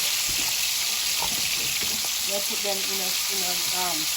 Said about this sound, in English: I want them to be brown a bit, like fried. I want it to fry a little